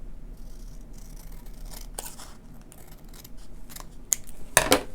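Scissors trim a small gold paper piece for a craft project with quiet crisp snips that grow louder and denser toward the end, finishing in a close, sharp cluster of cuts.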